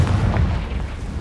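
The Confringo spell going off in Hogwarts Legacy, a deep, loud boom that rumbles low and booms across the whole moment, with no voice over it.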